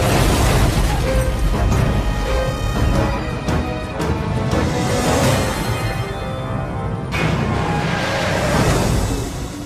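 Police gunfire at a fleeing driver after a red-light chase, loud dense bursts and booms in a continuous chaotic roar with no pause.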